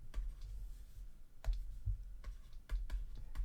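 Fingers tap numbers into a handheld calculator, giving a quick, quiet sequence of light clicky keypresses with uneven spacing.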